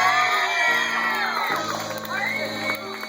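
A bar crowd whoops, screams and cheers loudly and continuously, voices overlapping in a dense roar with a few higher shouts standing out.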